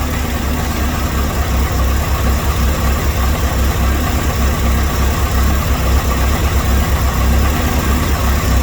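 A Saturn S-Series with a rear-mounted turbo idles just after its first start, a loud, steady, close engine rumble with an even low throb and no voices.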